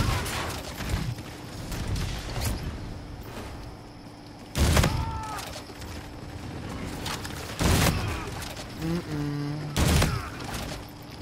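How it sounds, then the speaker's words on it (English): A shotgun fires in Call of Duty Infinite Warfare, three or four loud booming blasts spaced a few seconds apart over busy game sounds. "Shotgun goes boom."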